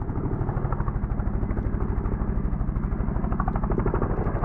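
A helicopter flies overhead while parachutists jump from it. Its steady, close rotor chop pulses evenly throughout, with no talk.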